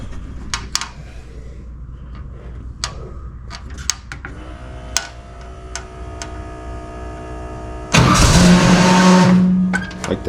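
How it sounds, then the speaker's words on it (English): A car's cold engine is cranked with the starter around eight seconds in and fires into a loud, steady run, after several sharp clicks and ticks over a quiet background. "We're gonna start it. It'll be a cold start."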